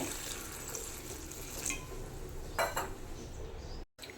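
Water, about one and a half cups, pours into a pot of breadfruit for a sweet pachadi, a quiet splashing with a few light clinks of utensils.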